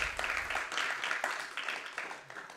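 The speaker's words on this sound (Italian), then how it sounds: "un applauso ancora a Leopoldo" A small audience applauds at a jazz drum book presentation by drummer Roberto Gatto, a few seconds of scattered, moderately faint hand clapping that carries on steadily without voices over it.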